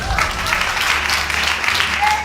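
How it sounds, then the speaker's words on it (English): Courtroom audience applauding after a paternity verdict is read, a steady wash of clapping filling the room for a couple of seconds with voices mixed in. "The judge delivers the verdict that transforms the room's atmosphere. met with applause and a sense of resolution."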